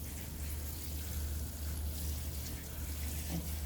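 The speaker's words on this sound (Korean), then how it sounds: "큰 화분만 이렇게 샤워기를 줍니다." Water from a shower head sprays in a steady, soft hiss onto large flower pots, a continuous, quiet rush with no break.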